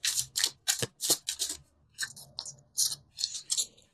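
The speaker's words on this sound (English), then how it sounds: "I'm going to pull 2 more cards for you." Tarot cards pulled one by one from a deck, giving a quick run of crisp, papery swishes and snaps, close and fairly loud, with no talking.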